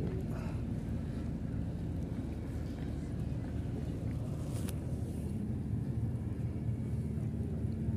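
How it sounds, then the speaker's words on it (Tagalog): A low, constant engine rumble mixed with wind buffeting the microphone as a ship passes on Manila Bay, churning across open water, with no talking. "isang barko"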